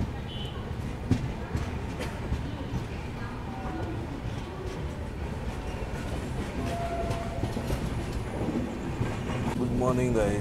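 The 12648 Kongu SuperFast Express runs after leaving Betul, a continuous rumbling roar with rhythmic wheel clatter heard from inside the coach, with a faint horn and brief squeals near the end.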